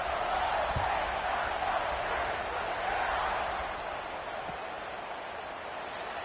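Football stadium crowd waiting for the kickoff, a steady wide roar of many voices filling the space at moderate level, easing slightly toward the end with no clear individual speech.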